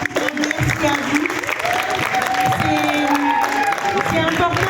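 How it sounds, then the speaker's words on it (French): A loud, dense wave of audience applause for dancers taking the stage, sustained throughout with crowd noise and some voices and cheering mixed in. "faites un tonnerre d'applaudissements quand elles seront sur scène pour elles"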